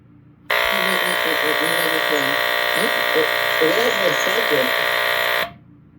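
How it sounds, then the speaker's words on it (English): A Smoke Sentinel 30-04T smoke and heat alarm buzzer sounds as a steady, flat drone for about five seconds while voices talk over it, then cuts off. "This is actually really quiet for a buzzer."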